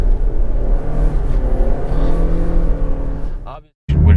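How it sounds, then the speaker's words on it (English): A 2023 Lexus RX 350h hybrid with a CVT transmission drones steadily from inside the cabin while driving, a continuous low engine hum with road rumble, cutting out briefly near the end. "you can hear that CVT transmission making the drony sound"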